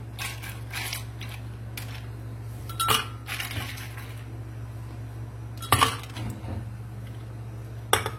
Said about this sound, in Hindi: ब्लेंडर में सबसे पहले आइस डाल देंगे